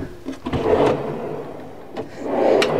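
A drawer in a Flair 920 camper van slides open and shut twice, each time with a soft rolling rumble ending in a muted thud, close to the listener.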